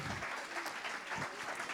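Applause for children at a Christmas party, a steady dense wash of clapping hands from a crowd, continuous and fairly loud across the whole moment with no voices standing out.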